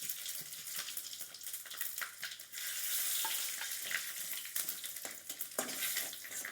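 Panch phoron and dried red chillies splutter in hot oil with bay leaves, a bright, dense crackling sizzle with scattered pops, close and steady throughout.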